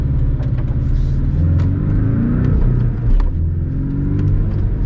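Porsche Cayman S with a four-cylinder engine and manual gearbox revs and pulls hard, a loud continuous engine drone rising and falling through the gears, close and steady with no voices over it.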